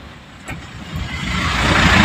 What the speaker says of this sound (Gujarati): વિજાપુરની બજારમાંથી આપણે ગાડી કાઢી છે આજે